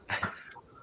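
A dog gives a couple of quick, close barks or yips, then a soft trailing whine into quiet.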